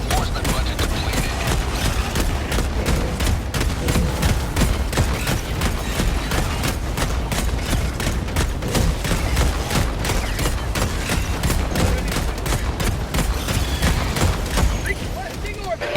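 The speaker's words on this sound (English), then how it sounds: "Before that Gatling cuts out, we need to move." Rapid, sustained Gatling laser fire in Helldivers 2 on the hardest Super Helldive difficulty, a dense stream of evenly spaced bursts running nonstop at close range with talk over the top.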